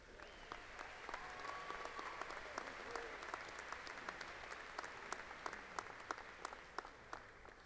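A large commencement crowd at Angelo State University's fall graduation gives a round of applause for nursing graduates, with steady dense clapping that carries through the whole stretch and a few sharper individual claps standing out.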